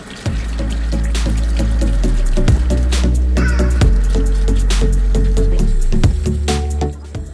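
Water runs steadily from a sink tap while rusty tools are rinsed and cleaned, a continuous near splashing flow with brief interruptions and clatter, no voices.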